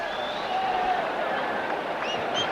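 Distant crowd roar and applause at Eden Gardens as India take an Australian wicket in a 2001 Test match, a steady broad wash of cheering with faint whistles rising above it.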